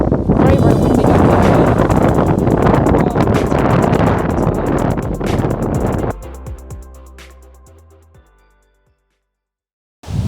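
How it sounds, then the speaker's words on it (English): Strong wind buffets the microphone on a coastal and woodland walk, a loud continuous roar that drops away after about six seconds and then fades to near silence. "Very windy out"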